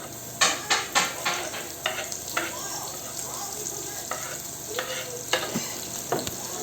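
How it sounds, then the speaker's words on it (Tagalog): Chopped onions sautéing in a pan for pork broccoli, a soft sizzle under repeated stirring and clinks of a spatula, fairly quiet and close with some background noise. "So ito, nilagay ko na ang sibuyas mga kaditi."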